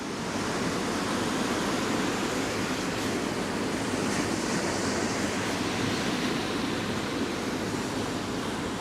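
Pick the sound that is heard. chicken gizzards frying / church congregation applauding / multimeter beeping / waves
waves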